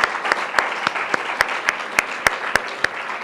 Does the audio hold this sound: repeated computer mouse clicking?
no